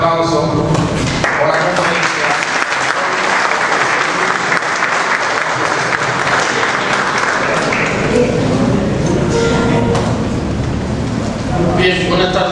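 Loud, dense audience applause welcoming a magistrate to the podium at a public prosecutor's event, a sustained roar of clapping that stays strong throughout before easing slightly at the end.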